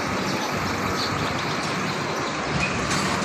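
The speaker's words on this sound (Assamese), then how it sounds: "ৰেল লাহে লাহে গৈ আছে," A steady, loud rumble of the Brahmaputra Mail train pulling slowly out of Nalbari railway station, a continuous broad roar with no one speaking.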